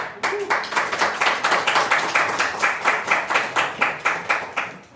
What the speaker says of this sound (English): give a bit of applause to them as well